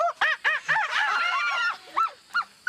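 A young person mimics a bird call with their voice, producing a run of honking, goose-like hoots: several short separate calls, then a longer warbling stretch, then a few more spaced calls, loud and close with no other talk.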